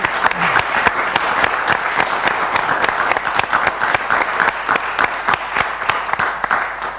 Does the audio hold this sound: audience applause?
yes